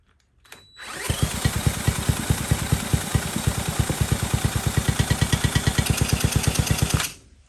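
A Honda XL70 motorcycle engine starts with a brief crank, then settles into a loud, close, steady idle with an even rapid putter that runs for several seconds before cutting off.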